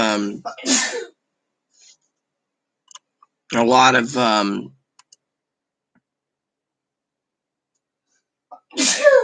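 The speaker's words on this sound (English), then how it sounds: "Ow, that sneeze hurt." A sharp, close pressure sneeze bursts out at the start, followed by a second sneeze-like outburst a few seconds later and another at the end, with quiet gaps between.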